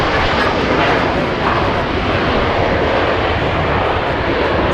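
A Boeing 777 with GE90 engines at Los Angeles International Airport, a loud continuous roar of jet engines that stays steady and broadband throughout.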